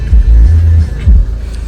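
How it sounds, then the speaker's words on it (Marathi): A Mahindra XUV engine starting and pulling away, a loud close low rumble with a couple of revving surges before settling into a quieter idle. "गाडी स्टार्ट केली आता."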